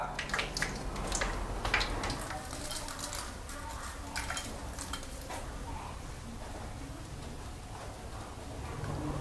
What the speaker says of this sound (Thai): อย่าทอดนานนะครับ เดี๋ยวพริกกับใบมะกรูดจะไหม้